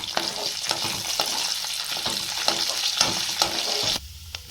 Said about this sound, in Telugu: వాటిని బ్రౌన్ కలర్ వచ్చినంత వరకు ఫ్రై చేసుకోండి.